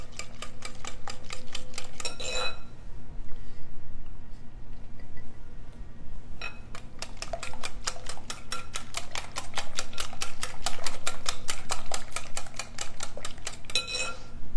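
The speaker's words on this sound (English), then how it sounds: "next I'm going to add our melted butter. Just stirring that in." A spoon stirs melted butter into a corn pudding mixture in a bowl, giving rapid rhythmic clinking and scraping in bursts with short pauses, close and fairly loud.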